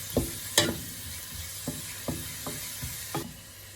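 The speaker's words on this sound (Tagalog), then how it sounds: "Halu-halo na po natin mabuti" Onions sauté in a pan with a soft, steady sizzle while a utensil stirs them, giving a handful of distinct scraping clinks spread across a few seconds.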